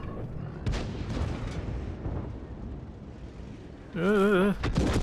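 A tank gun firing in the armored combat game World of Tanks, a few heavy booms and rumbling impacts over battle noise, followed near the end by a short wavering tonal game sound.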